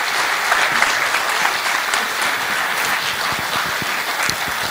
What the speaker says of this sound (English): I want this clap to be 10 times the one that it was for yours truly, for Firas Naji